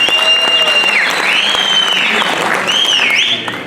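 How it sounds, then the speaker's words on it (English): A loud crowd at a Bahujan youth conference applauds to welcome a speaker. The clapping is dense and sustained, with shrill whistles or high tones gliding over it. "I request all of you to welcome him with a big applause."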